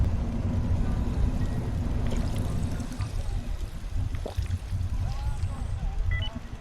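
Drinking water in the video game Fallout 4, a short pouring, gulping water sound over a low ambient rumble, with a few faint effects near the end and talk heard.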